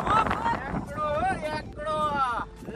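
Strong wind at a seaside spot buffets the microphone as a steady low rumble under someone talking throughout.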